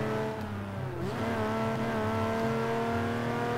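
Engine revving and accelerating steadily in a Garry's Mod racing game, a continuous loud drone with rising tone near the end.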